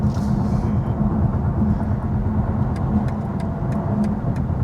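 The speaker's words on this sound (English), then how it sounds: "A little bit of a road noise test too, because the road we're about to be on is not exactly smooth." Inside a 2024 BMW i5 M60 xDrive on a rough road, a steady loud rumble of tire and road noise carries on throughout, with faint ticks and knocks over it.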